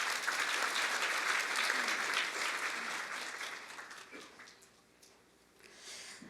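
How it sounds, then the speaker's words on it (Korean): An audience at a university student reporters' launch ceremony for the 2012 April 11 general election applauds a speaker coming up, a dense burst of clapping that slowly fades toward the end. "큰 박수로 맞아주시기 바랍니다"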